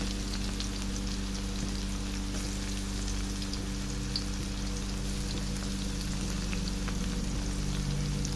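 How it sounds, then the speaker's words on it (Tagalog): Ginger and semi-minced garlic fry in a pan with a steady, loud sizzle and crackle that runs unbroken throughout, with no voices. "matapos natin ilagay ang ating luya at medyo nag-brown-brown na siya, ilagay na rin natin ang ating garlic na semi-mince"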